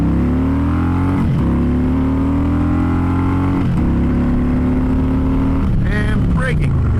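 A Harley-Davidson Electra Glide motorcycle accelerates hard, its loud, close engine drone climbing steadily in pitch before dropping away near the end of the run.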